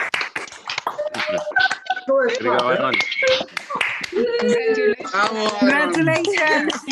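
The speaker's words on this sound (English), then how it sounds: "join us in a round of applause for this year's Champion of Literacy, Alan Salinger" Attendees of an online literacy awards meeting clap in scattered, uneven bursts while several voices overlap, calling out congratulations through their microphones.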